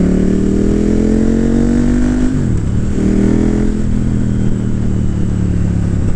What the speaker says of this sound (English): this bike sounds really good as well